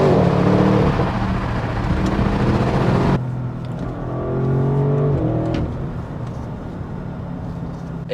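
The engine and exhaust of an Audi RS6 Launch Edition roar loudly as the car accelerates, with a sharp drop in tone around a gear change and then a quieter, steadier drone.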